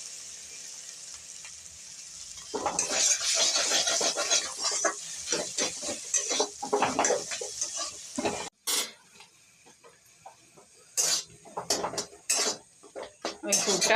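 Spoon or spatula stirring a banana flower filling mixed with crushed nuts in a pan, scraping and clinking in repeated strokes with a soft sizzle, louder through the middle and closer toward the end.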